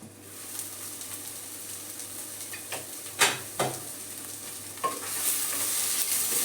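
Tomatoes and masala sizzle steadily in a pan for a Kerala chicken curry, with a few distinct scraping stirs and a clink of the spoon against the pan over the continuous frying hiss.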